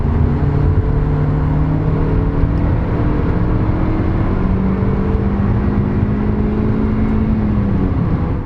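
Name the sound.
Mazda MX-5 driving on the motorway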